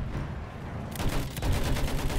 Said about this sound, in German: Das hört sich auch geil an, wie die Patronen in den Panzer reinfliegen